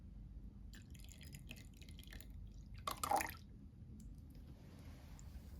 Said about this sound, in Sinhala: මම මේ වෙලාවේදී අපේ කිරි එකත් එකතු කරගන්නවා.